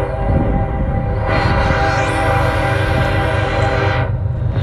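A loud train passes close by at night near a field, with a steady heavy rumble throughout and a long horn-like tone swelling in the middle before the sound eases off at the end.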